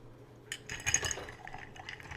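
Ice being stirred in a mixing glass for a Sazerac, soft glassy clinks and rattles in a loose run, close but faint, with no talk.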